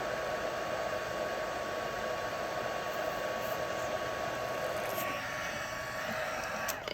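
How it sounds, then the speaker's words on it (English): A heat tool melts embossing powder during a stamping and card-making session, giving a steady, loud, broadband blowing hiss that runs unbroken for about seven seconds with no talking. "Just melt this embossing powder."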